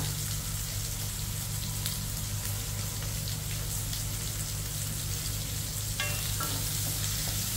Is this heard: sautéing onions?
yes